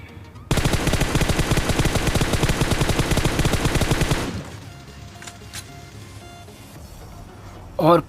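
Rapid sustained automatic gunfire from a PUBG match on a OnePlus 5T rattles for about four seconds, then gives way to quieter game ambience with a few faint distant shots, under a voice.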